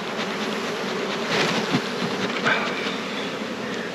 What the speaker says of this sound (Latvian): Slaukam bites iekšā.